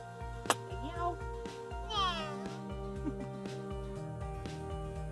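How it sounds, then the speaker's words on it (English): A small pet kitty gives a single drawn-out, falling meow partway through, over steady rhythmic background music. "With my little kitty. Meow."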